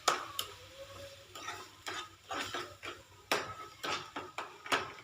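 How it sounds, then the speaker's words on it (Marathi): A spoon scrapes and taps around a pan in repeated strokes, stirring a lemon and sugar mixture with a light sizzle underneath. "थोडा वेळ आपण याला हलवत राहूया साखर घडे पर्यंत"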